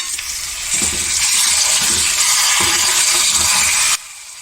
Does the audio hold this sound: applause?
no